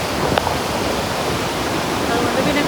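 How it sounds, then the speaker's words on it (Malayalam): Great Falls in New Jersey pours with a powerful, loud, constant roar of rushing water, a dense unbroken wash of sound heard up close. "നല്ല അടിപൊളി സൗണ്ടാണ്. എന്ത് ശക്തിയിലാണെന്ന് പറഞ്ഞാൽ വെള്ളം പോണേ."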